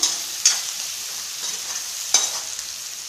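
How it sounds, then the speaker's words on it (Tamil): Onions fry in oil in a kadai with a steady, close sizzling hiss. A few sharp scrapes and knocks of a spoon stirring punctuate it, and no one talks. "வெங்காயம் நல்லா வதங்கட்டும்."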